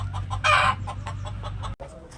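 Free-range village chickens cluck nearby in a lemon orchard, a run of short, repeated clucks with one louder, sharper burst early on and a steady low hum underneath.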